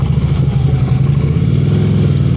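A motorcycle engine runs at a low, steady throttle during slow-speed riding practice in Pennsylvania, a close, loud rumbling drone with small fluctuations as the rider holds a crawl.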